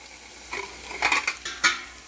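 Onions browning in a pan on a home stove, stirred with a metal spoon that scrapes and clinks against the pan in a few short bursts over a faint sizzle, close up with no talking.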